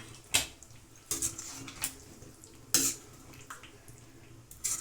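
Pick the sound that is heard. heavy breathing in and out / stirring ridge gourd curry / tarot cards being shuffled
stirring ridge gourd curry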